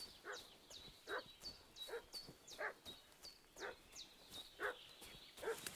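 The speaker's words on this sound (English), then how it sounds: "What's that dog making such a fuss about?" Dog in the video game Kingdom Come: Deliverance 2 barking repeatedly, about seven sharp barks in a steady rhythm at mid distance, set against a quiet ambient background with no talk.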